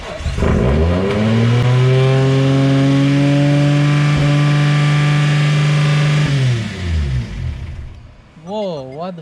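A forged RB25DET engine fires up and revs hard, holding a high steady drone for several seconds before dropping off, loud and close, with a brief blip of revving at the end.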